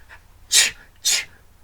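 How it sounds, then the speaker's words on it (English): Two sharp sneezes about half a second apart, loud and close with a breathy burst each time, separated by quiet breathing and a faint intake before the first. "I can't stop sneezing"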